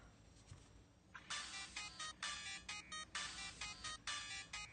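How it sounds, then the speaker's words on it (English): A phone ringtone in an animated cartoon plays in short repeating bursts, a bright electronic melody pulsing about once per second after a quiet start, fairly faint overall. "Doesn't sound like a full ringtone."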